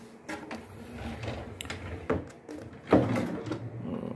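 A drawer in a Surabaya hotel room slides open or shut with a few soft knocks and scrapes, then a firmer clunk near the end, close by with no talk.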